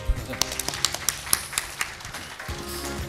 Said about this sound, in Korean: 우리 박수 한번 드리죠.